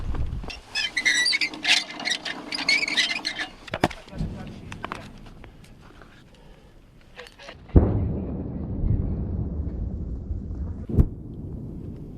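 A D-30 howitzer fires a loud heavy blast in combat in Serebryansky forest, Ukraine, after a stretch of chatter and quiet, followed by rumbling echo and another sharp crack later.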